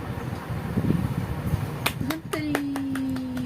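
A few sharp hand claps ring out, followed by a quick burst of several more, over a steady room hum and faint background noise.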